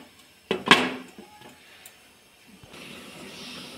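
A lid is set onto a cooking pot of simmering fish curry in a home kitchen, one or two close metallic clanks, then a quiet steady hiss of steam.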